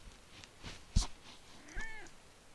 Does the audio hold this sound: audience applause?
no